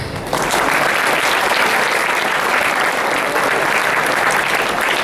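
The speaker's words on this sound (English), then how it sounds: "let us all give them a good applause" Sustained applause from a large audience at a school Teachers' Day and Onam celebration, starting abruptly and holding steady and loud throughout without a break.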